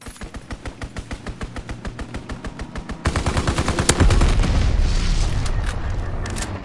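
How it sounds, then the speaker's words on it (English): Enemy aircraft strafing run in a PS4 war shooter: a long string of rapid machine-gun bursts builds into a louder, denser barrage with heavy booming impacts close by. "Enemy strafing run incoming!"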